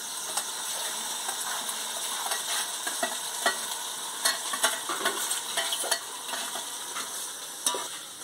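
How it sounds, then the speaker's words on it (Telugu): Coconut paste fries for a fish curry, a bright continuous sizzle close up, broken by repeated clicks and scrapes of stirring against the pan. "ఇట్లా ఫ్రై అయిన తర్వాత బాగా ఇలా ఫ్రై అయిన తర్వాత మనం ఫస్ట్ టెంకాయ పేస్ట్ వేసుకుంటాం."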